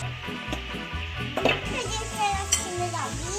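A spoon stirs sauce in a pan with soft scraping and occasional utensil clinks over a light sizzle, at close range and moderately loud, with no talking.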